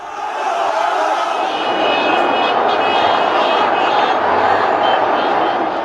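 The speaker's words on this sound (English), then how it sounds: "Suddenly, they charge the crowd, hurling stones and wielding sticks." A crowd of protesters is charged by attackers hurling stones and wielding sticks at Tahrir Square in Egypt, some mounted on horseback and camels. The scene is a loud, continuous roar of many voices with a dense, steady din throughout.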